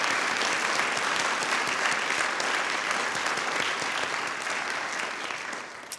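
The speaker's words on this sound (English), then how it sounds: "now let's give them all one more round of applause" Sustained applause from a crowd at a ceremonial congressional swearing-in event, steady and dense throughout, fading slightly near the end.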